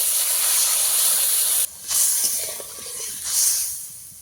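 Water poured into a hot pan with white mustard paste, producing a loud steady steam hiss that cuts off suddenly, then returns in softer surging bursts with a bubbling sputter.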